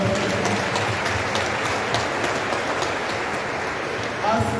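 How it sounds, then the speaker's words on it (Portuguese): A church congregation claps for the children, a dense, even wash of applause lasting several seconds, with a voice speaking briefly near the end. "vamos aplaudir as crianças"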